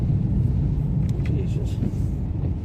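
A car reverses slowly into place on a wet, rainy day, its engine a low, steady rumble close by with faint higher noises drifting over it.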